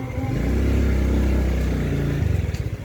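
A motorcycle engine runs close by, its rumbling drone swelling through a rev and then settling into a pulsing idle, with no talk over it.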